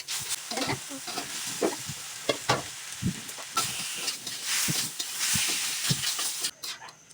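Spiced masala with small shrimp and boiled taro sizzles and hisses in a pan as water is added, with repeated scraping stirring strokes and steady frying noise close by.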